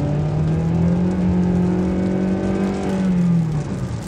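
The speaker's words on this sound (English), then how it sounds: "So we're gonna do a quick little acceleration run here." A turbocharged 2.3-liter 2011 Mazda CX-7 accelerates hard, its engine note droning steadily and rising in pitch for about three and a half seconds before easing off, heard from inside the cabin with no talking.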